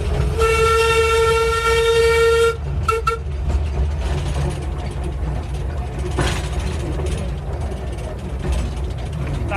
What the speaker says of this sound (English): The Festiniog Railway was an industrial railway built to transport slate.